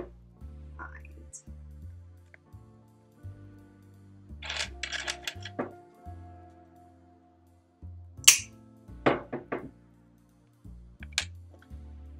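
Sharp snapping clicks of mosaic tile pieces being cut with nippers, a few isolated crisp cracks separated by pauses over a low steady background.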